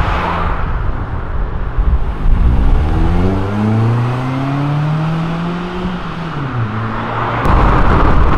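A Range Rover Evoque pulls away from a car event, its engine revving and climbing in pitch as it accelerates past, loud and close, with crowd noise around it.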